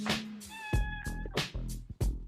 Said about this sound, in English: You're my cat. Yeah, it's definitely not liking the show.